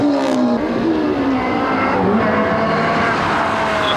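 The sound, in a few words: Honda S2000 race car accelerating in drag race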